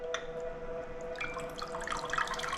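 Water trickles and drips steadily through a coffee maker during cleaning, with bright splashing droplets that thicken toward the end, heard close up with no talking.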